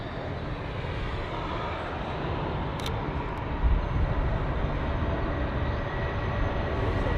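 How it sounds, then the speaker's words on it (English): A United Boeing 767 airliner taxis quickly at London Heathrow airport, its jet engines making a steady, broad roar that holds at moderate loudness throughout, with no voices. "we've got a United 767, which is has arrived earlier on. It's just making its way over to the gates as well. It's taxiing very fast"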